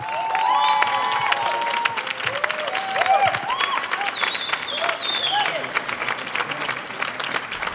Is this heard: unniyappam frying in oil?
no